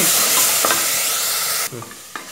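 Special masala with coriander and curry leaves sizzles loudly in a hot pan for mushroom pulao, with a utensil stirring and scraping before the frying hiss suddenly drops.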